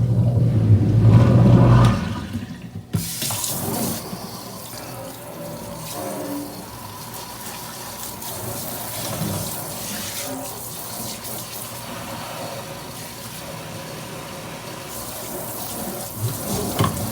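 Hot tap water runs into a sink after a Shark Navigator Lift-Away vacuum's hoses and attachments are rinsed, a steady broadband splash heard up close at moderate level with a brief louder burst at the start.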